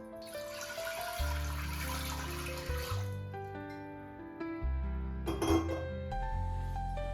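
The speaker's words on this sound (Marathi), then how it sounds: "आता आपण कुकरमध्ये पाणी ओतूया" Water is poured into a metal pressure cooker, a close, continuous splashing stream whose pitch shifts as the vessel fills, with a couple of metallic clinks and a short pause midway.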